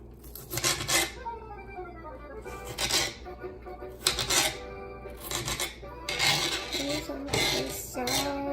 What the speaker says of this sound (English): thin layers. Just like that. And give them a little dicing.